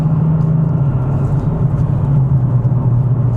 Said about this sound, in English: Rev Matching.